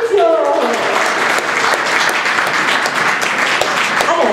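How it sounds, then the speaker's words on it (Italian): A crowd at a talk on label reading and home production applauds Fabrizio in a loud, continuous wash of clapping, with a brief voice audible at the very start. "facciamo un applauso a Fabrizio!"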